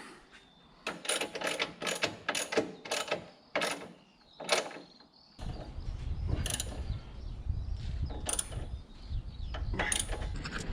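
Ratcheting clicks of a wrench tightening a hose fitting on a Bobcat 753 skid-steer loader, quick bursts of close metallic ticks, then steadier working noise with scattered clicks.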